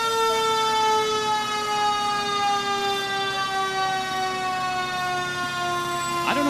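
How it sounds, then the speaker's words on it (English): Fire truck sirens wail loud and close at a Memorial Day parade in Royal Oak, Michigan, a sustained rising and falling tone that keeps going throughout with a sharp swoop near the end. "I don't know if they realize what those sirens do to our audio in the truck"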